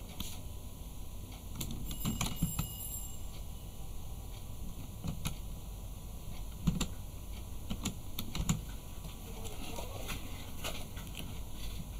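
Keys tapped on a computer keyboard while entering a captcha, scattered clicks arriving in short irregular bursts over a steady low hum, fairly faint and with no voice.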